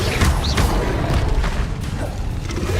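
An Incendio fire spell from Hogwarts Legacy is cast, giving a dense, loud whooshing roar with rumbling thuds and bright flaring bursts through a short continuous stretch.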